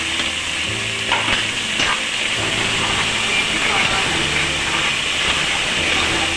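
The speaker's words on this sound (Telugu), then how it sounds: "పచ్చివాసన పోయే వరకు వేయించండి." Onion and masala fry in a pan for a home-style chicken curry, giving a steady, dense sizzle with faint stirring scrapes throughout, close and fairly loud.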